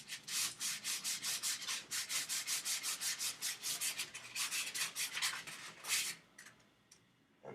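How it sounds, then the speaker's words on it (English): Sandpaper worked by hand over a wooden wand in quick, steady back-and-forth strokes, each a soft rasping scrape, close and alone with a brief pause near the end. "I'll take this piece of sandpaper that I have."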